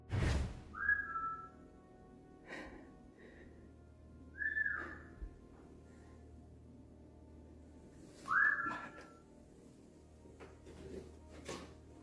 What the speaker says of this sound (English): A whistling sound pulls him toward one of the rooms on the left side of the apartment